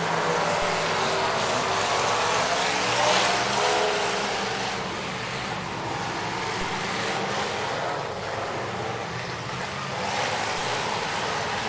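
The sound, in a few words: race cars racing on a dirt track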